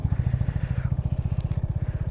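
A motorcycle engine, just refuelled, idles nearby with a loud, steady, rapid low thumping pulse and faint traffic noise behind it.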